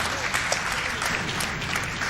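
Applause from a crowd after a singing performance, dense steady clapping throughout a short burst with no voices on top.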